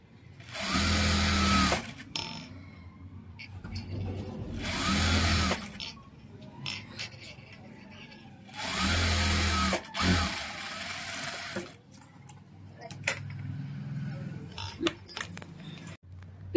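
Sewing machine stitching a cotton blouse sleeve, loud close bursts of rapid mechanical whirring that start and stop several times with quiet pauses and light handling clicks between runs.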